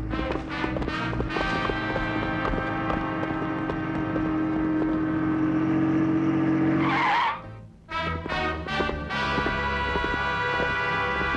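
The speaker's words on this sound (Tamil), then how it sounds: "டேய் கார் வருதுடா, வாங்க." A car drives up fast and skids to a halt, a loud sustained engine roar building to a harsh tyre-scraping burst, then a brief drop before engine noise resumes, with film music or effects layered throughout.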